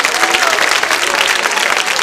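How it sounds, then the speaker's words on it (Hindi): Loud, vigorous applause breaks out for a prize winner at a Holi quiz show in a girls' B.Ed college, a thick, close wash of many hands clapping without pause. "जोरदार तालियां बजनी चाहिए उषा जी के लिए।"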